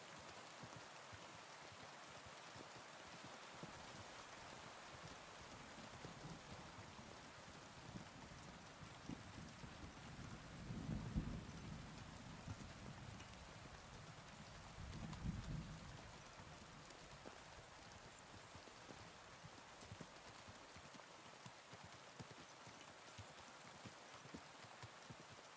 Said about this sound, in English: Pretty good rainstorm.